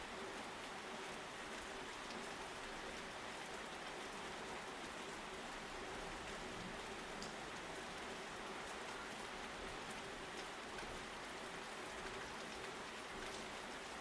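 Steady rain falls and patters on a surface in an even, unbroken wash that holds constant for the whole stretch, with no voices.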